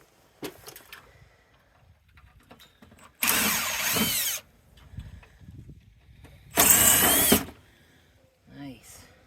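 A power drill backs screws out of a soda vending machine during teardown for recycling, with two loud, close bursts of whirring, each lasting about a second, separated by quieter handling clatter and a few faint murmurs.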